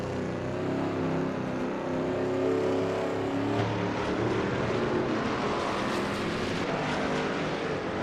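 A Shelby Mustang GT350R roars around the Zandvoort circuit in a racing video game. The engine drones steadily and loudly with small shifts in pitch as the car is pushed hard, and no one talks over it.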